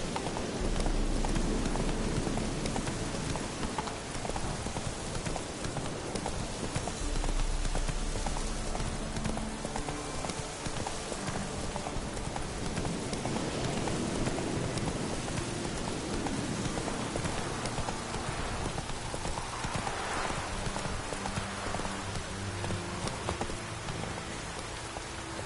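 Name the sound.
horse galloping, Roach in video game Witcher 3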